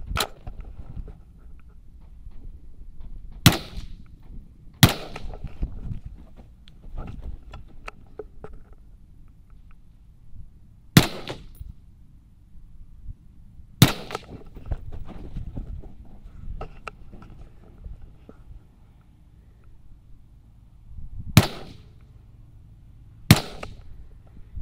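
Gunshots are fired at steel targets at 100 yards: about eight sharp, loud reports spaced irregularly several seconds apart, each a sudden crack over quiet outdoor background with small handling noises between.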